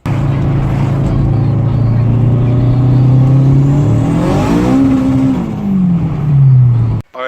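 Turbocharged K24-swapped Honda EP3 hatchback driving on the road, its engine droning steadily then revving up and shifting as it pulls, loud and close throughout, with a brief cut at the end.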